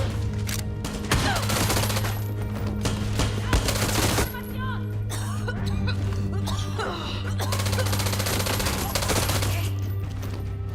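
Sustained bursts of machine-gun fire in the shooter game Far Cry 6, dense rapid shots layered with explosions and game noise, loud and continuous across the whole stretch with a short break midway.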